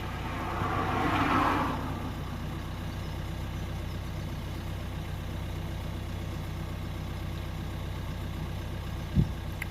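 A Renault Trafic van with a clogged diesel particle filter idles steadily with a low engine hum, joined early by a brief louder whoosh and near the end by a single sharp knock.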